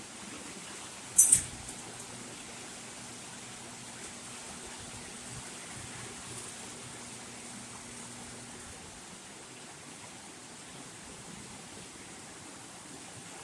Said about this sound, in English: It is raining hard too.